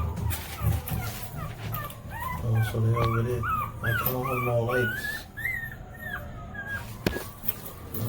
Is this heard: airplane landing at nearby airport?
no